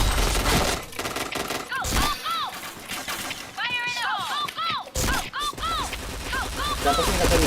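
Rapid bursts of gunfire crackle in the shooter game Point Blank, dense volleys broken by brief gaps, with a voice speaking over the action and other synthetic in-game sound effects sweeping through.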